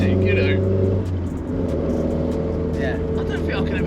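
A Mk2 Ford Escort van with a swapped C20XE engine revs hard and close, its loud, harmonically rich growl dipping briefly before climbing again, with people talking nearby.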